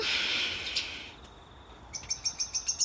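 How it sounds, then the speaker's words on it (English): A high, buzzy trill gives way to a rapid string of repeated chirping calls from birds on the water, moderately close over a quiet outdoor background in New Zealand's North Island. "Listening to the birds on the water."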